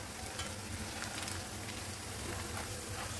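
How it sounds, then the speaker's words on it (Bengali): Goat tripe fries with onion and garlic in oil in a wok, giving a steady, close, bright sizzle with faint crackles throughout and no voice. "তারপর কড়াই দিয়ে এটা পেঁয়াজ আর রসুনের সঙ্গে ভেজে নিচ্ছি"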